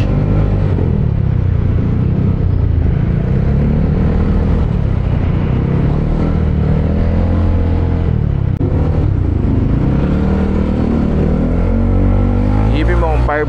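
A dense, loud mix of road traffic engines rumbles steadily as heard while riding a Yamaha Aerox 155 V3 scooter, with rising and falling engine tones throughout and a sharp rev near the end.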